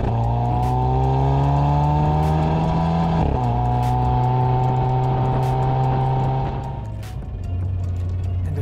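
A 2021 Hyundai Veloster N with a dual-clutch transmission pulls hard, its engine note climbing steadily before a quick gear change near the middle and another dip toward the end, loud and close with no talking.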